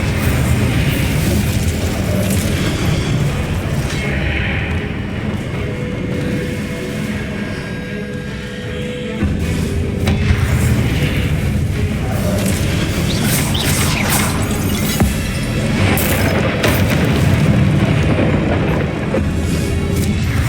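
Repeated Confringo blasting-spell explosions in the video game Hogwarts Legacy, loud booming blasts and rumbling bursts coming one after another over a dense, continuous game soundscape with no talk.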